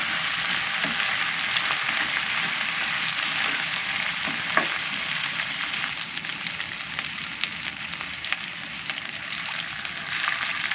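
Mackerel sizzles in a pan for misua soup, a steady loud frying hiss with occasional pops and stirring clinks, no talk.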